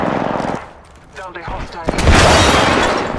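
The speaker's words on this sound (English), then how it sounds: "The enemies are shooting at me." Enemy gunfire in the Apex Legends battle royale game, loud rapid bursts of automatic shots crackling close by, building to a dense sustained volley near the end, with a brief game voice line speaking over the start.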